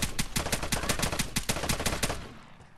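Rapid, evenly spaced bursts of automatic gunfire from a video game rattle loudly for nearly three seconds, each shot a sharp crack in a fast steady rhythm, with no talking over it.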